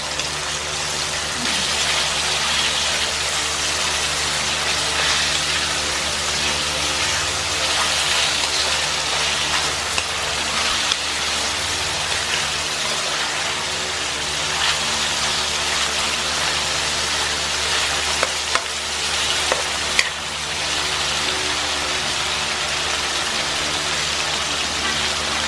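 Chicken pieces frying in a pan until golden brown, giving a steady, dense crackling sizzle like rain that runs unbroken throughout, with a faint hum underneath.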